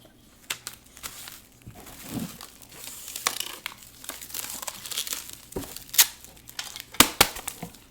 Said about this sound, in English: And then I'm going to do a little tape with the tag.